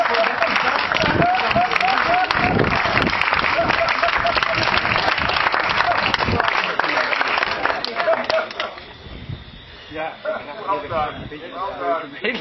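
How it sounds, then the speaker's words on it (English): A crowd breaks into loud, dense applause that holds for several seconds, then fades as a voice begins talking near the end. "Let's hear a big applause for Mr. Johnson."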